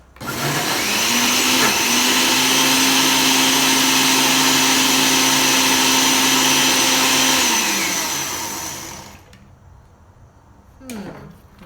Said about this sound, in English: never stir with the blender on